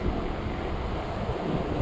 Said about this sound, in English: Bumps on a e-bike, but yes, it's very windy.